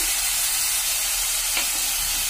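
Cauliflower pieces dropped into a hot pan with fried ginger and garlic, a loud, steady, close hissing sizzle that fills the whole moment, with no voices.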